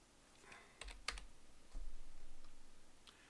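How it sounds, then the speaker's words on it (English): Quiet keystrokes tap on a computer keyboard in a short burst of typing, a handful of soft, irregular clicks over a faint background hum. "I just type in search reports"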